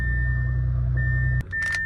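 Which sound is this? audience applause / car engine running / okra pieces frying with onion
car engine running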